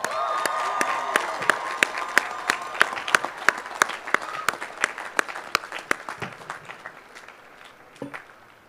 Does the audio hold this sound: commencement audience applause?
yes